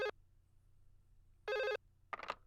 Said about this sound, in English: Let's see if we can get Mike Brown on the phone